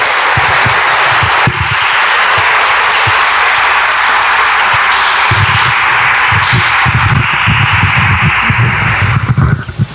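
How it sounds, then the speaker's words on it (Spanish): Audience applause welcoming a doctor to a talk on the final life of stars, a dense, steady wash of many hands clapping close and loud throughout, with a few louder claps toward the end. "Les pido un aplauso para que la doctora pueda iniciar."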